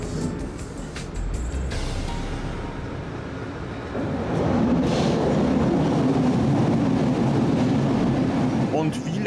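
A U-Bahn subway train rumbles along, heard from inside the driver's cab, a continuous loud rolling roar that grows heavier midway, with people talking over it.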